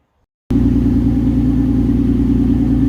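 A March racecar engine starts abruptly after silence and settles into a loud, close, steady idle with a deep throbbing rumble, heard alone while the car is driven onto a dyno.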